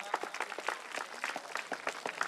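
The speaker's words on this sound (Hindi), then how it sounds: "इन सभी भक्तों के लिए तालियों के साथ स्वागत करें इनका।" Applause from an audience at a live Shri Ram Katha religious gathering welcoming devotees, a fairly faint, scattered patter of many hands clapping, steady but thin, heard from a distance with no voices over it.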